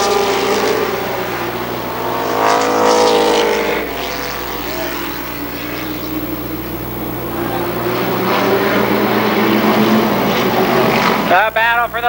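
Stock race cars roar around Columbus Motor Speedway during the 1995 Firecracker Championship, with engines rising and falling in pitch as they pass, loud and continuous under an announcer's running commentary.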